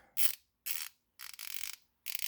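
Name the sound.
Eastwood 1/2 inch drive flex head ratchet clicking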